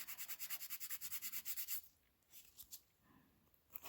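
Rapid rhythmic rasping of a nail file shaping a fingernail during a dip powder manicure, a steady run of close strokes that stops, followed by a few softer scattered scrapes.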